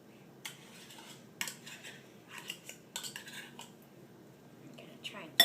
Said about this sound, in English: scrape it onto the side of the bowl to get it off the fork